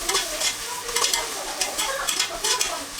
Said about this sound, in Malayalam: എന്നതിന് ശേഷം ഒരു 3 മിനിറ്റ് ഇത് വഴറ്റി കൊടുക്കണം, എല്ലാത്തിൻ്റെയും പച്ചച്ചവ മാറിക്കിട്ടാൻ വേണ്ടിയിട്ട്